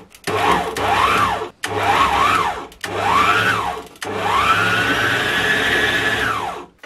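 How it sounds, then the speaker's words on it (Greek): A stand mixer with a paddle attachment works Greek Easter koulourakia cookie dough on low speed, whirring in three short bursts and then one longer steady run, loud and close. "Βάζουμε μπρος το μίξερ,"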